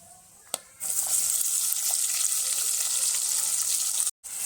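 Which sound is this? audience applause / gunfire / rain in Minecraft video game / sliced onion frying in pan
sliced onion frying in pan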